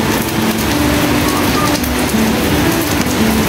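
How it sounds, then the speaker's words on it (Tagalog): Steady rain falling outdoors in the Philippines, a dense continuous patter of drops hitting surfaces with faint tonal hum beneath, heard alone without talk. "Umuulan yung weather natin."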